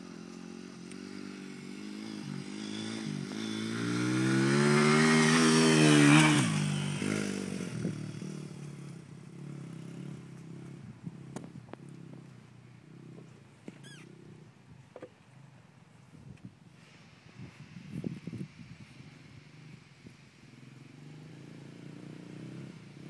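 A girl rides a dirt bike around a pool, its engine rising to a loud, rising rev that peaks and then fades into a quieter, uneven running drone with scattered knocks.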